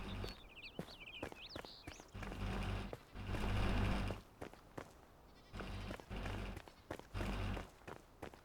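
Goat bleats in the open-world crafting RPG Enshrouded, a few short wavering cries near the start over busy game sounds and heavy thumping footsteps or combat hits.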